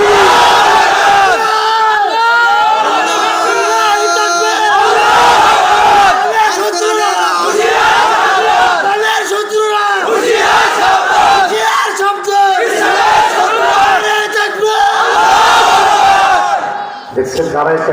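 A large crowd at an Islamic religious gathering (waz mahfil) shouts the Nara-e-Takbir chant in loud, sustained unison, with overlapping voices roaring continuously for the whole stretch before a brief drop at the end.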